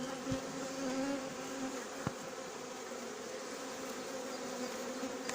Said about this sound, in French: il est vraiment beau cet essaim, il est vraiment beau